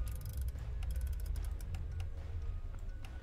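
Music box being wound in the Five Nights at Freddy's video game: a steady run of small ratcheting ticks and clicks over a low game drone, continuous and fairly close.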